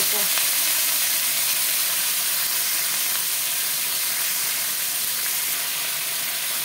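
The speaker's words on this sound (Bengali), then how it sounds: "হলুদ দিয়ে আমি এই মেটেটাকে আগে ভেজে তুলে নেব" Mutton liver coated in turmeric fries in hot oil, giving a loud, continuous close sizzle with a constant hiss throughout.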